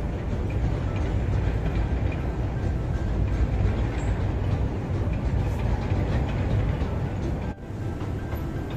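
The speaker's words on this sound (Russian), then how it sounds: "Поезд, видите, как идет?" Train passing through downtown Chicago, a loud, continuous rumble and rattle of rail cars rolling by at close range without a break.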